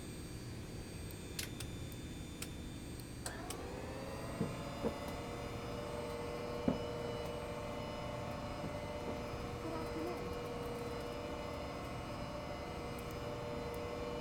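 The engines of a Lockheed L049 Constellation airliner in a flight simulator spool up with a rising whine, then settle into a steady, moderately faint drone, with a few soft clicks scattered over the hum.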